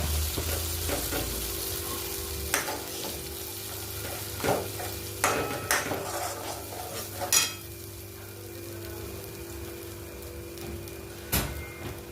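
Brinjal curry masala paste frying in hot oil in a pan, a steady sizzle with occasional stirring scrapes and clinks, close and continuous throughout.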